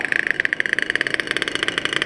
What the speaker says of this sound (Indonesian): suara mesin kok masih terdengar kasar